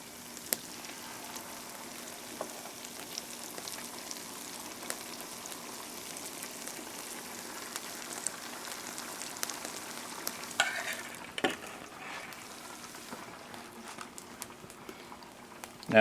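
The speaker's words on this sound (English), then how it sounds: "Let that start frying up." Steady oily sizzling and crackling from corn fritters frying in oil in a pan, with small pops and a brief clatter near the end.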